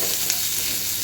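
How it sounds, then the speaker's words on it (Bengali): Onions frying in a pan until lightly browned, a steady close sizzle with a faint stir, heard alone. "আমার এদিকে পেঁয়াজটা দেখতেই পাচ্ছ হালকা হালকা বাদামি বাদামি কালার চলেই আসছে"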